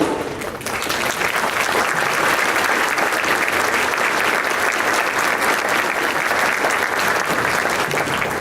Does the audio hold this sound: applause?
yes